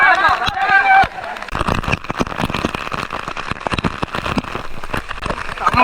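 Water rushes hard down the Courtallam (Palaruvi) waterfall in a dense, continuous splashing roar like heavy rain, close by, with people's voices over it.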